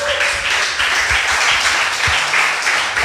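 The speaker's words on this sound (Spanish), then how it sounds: "¿Cuánto le da un fuerte aplauso al Señor?" Sustained applause from a church congregation fills the whole stretch, steady and fairly loud, with a few low thumps underneath.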